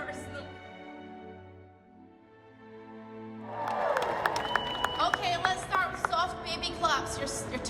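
Soft, light clapping from a fan-convention audience at a Lord of the Rings panel starts suddenly partway through and continues as a scattered patter, after a stretch of quiet sustained tones.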